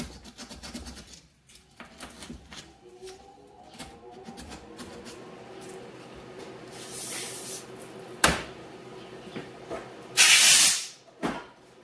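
Cleaner sprayed into the cylinder port of an Echo 7310 chainsaw during a port job: quiet handling clicks and rubbing, then a short hiss and a longer, louder close spray burst near the end.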